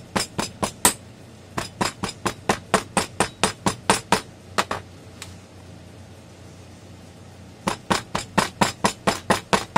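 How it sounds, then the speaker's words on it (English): Delft clay is hammered into a metal casting flask in quick, sharp, evenly spaced blows, two long runs of loud knocks with a short pause between them. "hammer it in really good"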